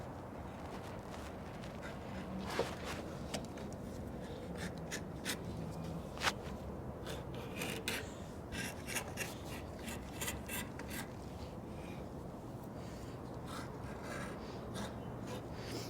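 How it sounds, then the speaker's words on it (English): Steady rasping scrape of a tool working carbon out of the ring grooves on a piston from a 1948 Chevy inline six, a faint close grinding rub moved in circles with small clicks, and no speech. "I am cleaning the grooves of the piston"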